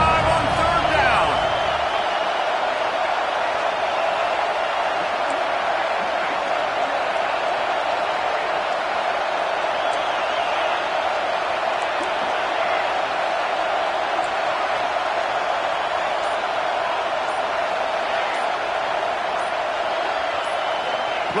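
Dense, roaring crowd noise fills an Ohio State Buckeyes football stadium on third down, a steady wall of cheering that holds at full strength from start to finish.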